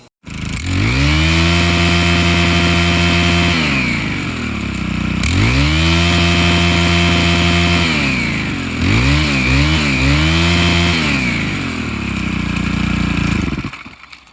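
A small engine revs hard in three long sustained pulls with a brief drop between them, ending with a wobbling throttle blip before it cuts off. The engine has a freshly rebuilt carburetor and an adjusted throttle cable, and it sounds loud and close.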